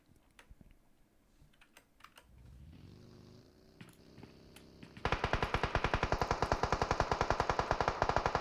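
Automatic gunfire in PUBG Mobile from a team up on a ridge during a pro scrim match: after scattered quiet clicks and a rising hum, a fast, loud, evenly spaced volley of shots runs through the final few seconds.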